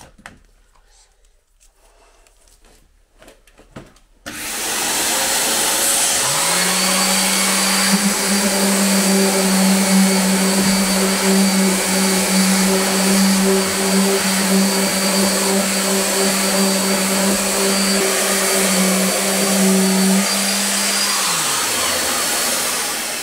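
Power sander with a shop vac attached for dust extraction, starting up after a quiet moment and running loud and steady for about fifteen seconds with a sustained whining hum, then winding down.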